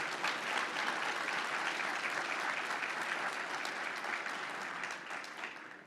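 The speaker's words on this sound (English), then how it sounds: "Another round of applause for all the associations." A conference audience at an opening general session gives a sustained round of applause, dense and continuous, fading slightly toward the end with no talking over it.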